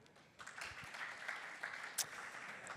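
Audience applause at a green-industry trade fair welcoming a speaker, a fairly faint wash of clapping that swells after a quiet start, with a few louder claps near the end.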